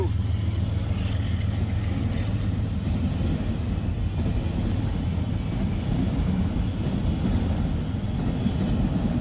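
A freight train of empty auto racks rumbles past with a DPU locomotive, a loud, steady low-pitched engine drone and rolling rumble that holds constant throughout.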